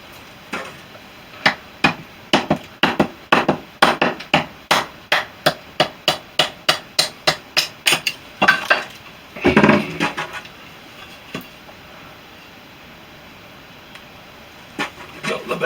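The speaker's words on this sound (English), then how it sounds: "Not the best wood for splitting, as you can tell." A quick run of sharp, evenly spaced knocks as a knife is batoned into wood, about twenty strikes, followed by a heavier split and crack, then near silence with a few faint taps.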